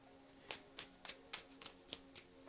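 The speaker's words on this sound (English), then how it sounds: "Last shuffle here for Cancer." A deck of tarot cards is shuffled close by, with a quiet run of about eight crisp, evenly spaced riffling snaps and no talking.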